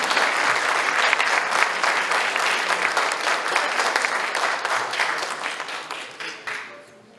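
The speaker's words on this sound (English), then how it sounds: "please give our panelists a round of applause for a wonderful conversation" A dinner audience applauds its panelists with full, sustained clapping that holds strong and then thins out and fades near the end.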